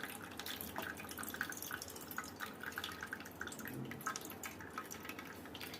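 Water poured over a deity during an abhishekam ritual, faint steady trickling and dripping with soft splashes, continuous and quiet.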